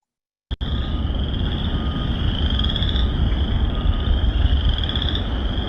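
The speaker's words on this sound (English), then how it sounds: "bellowing with the calls of chorus frogs, wood frogs, and spring peepers" A dense, continuous spring chorus of chorus frogs, wood frogs and spring peepers at a Michigan nature sanctuary, loud and steady high trilling and peeping that starts abruptly and fills the whole stretch with no voices over it.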